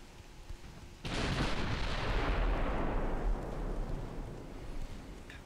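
A warship's gun salvo in the Ultimate Admiral naval game bursts in loudly after a second of quiet, then a heavy rumbling roar rolls on and slowly fades across the rest of the clip.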